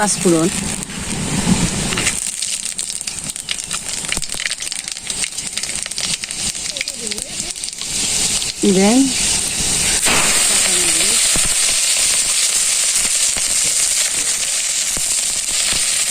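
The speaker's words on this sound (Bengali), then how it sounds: "তেলটা দিয়ে দিছি ফোড়ন দিয়ে দিই" Spice seeds, including panch phoron, sizzling in hot oil for frying, a steady bright hiss that swells louder partway through and continues under someone talking.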